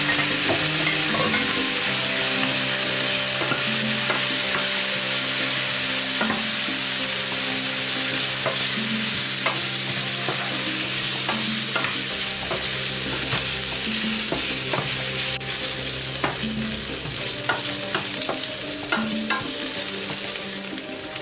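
Tofu and green beans frying in a pan with soy sauce, a steady close sizzle with tiny pops and clinks of a utensil stirring throughout, no talking.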